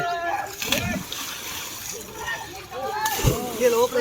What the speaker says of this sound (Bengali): সবাই উপর থেকে জাম দিয়ে স্নান করছে এখানে।